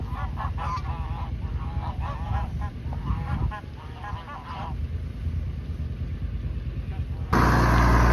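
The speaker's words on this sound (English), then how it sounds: "at least the geese are liking this cold rain" Geese honking repeatedly in a cold rain on a farm, a loose cluster of calls at moderate distance under a man's speech, with steady rain and background noise throughout.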